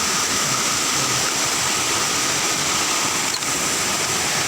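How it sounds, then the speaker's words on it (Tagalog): Busay Falls in Zamboanga Sibugay, a constant loud roar of water pouring down, heard up close, steady and unbroken with no voices. "Saka ito yung pabagsak ng tubig."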